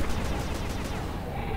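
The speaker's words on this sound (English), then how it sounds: "Shoot a couple at her head here." Rapid gunfire from shooting in the video game Sly 2: Band of Thieves, a steady run of quick repeated shots over continuous game sound, loud and close.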